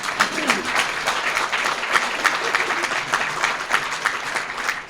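An audience at a children's advocacy celebration applauds steadily and fairly loudly, a dense wash of many hands clapping without pause.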